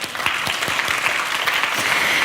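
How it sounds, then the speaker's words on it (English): Audience at a TEDx talk applauds in a short burst of dense, even clapping that continues steadily throughout. "a round of applause, even if he is no longer with us here."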